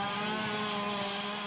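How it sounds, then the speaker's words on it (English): Chainsaws roar steadily and loudly as firefighters battle a burning mobile home, a continuous droning whine with a constant buzzing texture and no pauses. "Water was sprayed and chainsaws roared"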